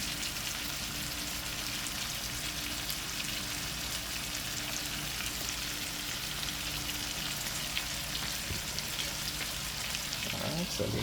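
Chicken pieces for a Jamaican-style curry frying in a pan, a steady broadband sizzle that holds evenly for the whole stretch with no talking over it.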